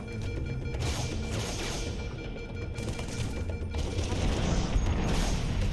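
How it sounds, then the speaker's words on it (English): Bomb exploding in the Halo video game amid gunfire, a dense roaring rumble of blasts and crackling debris that swells louder toward the end, with no clear gaps. "Bomb's about to blow."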